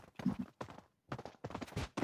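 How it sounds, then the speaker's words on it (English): Horse hooves clip-clopping in the video game Knightfall: Rodeo Drift, a quiet run of uneven steps in short bursts separated by brief gaps, with no talk over them. "Oh, yo, a horse."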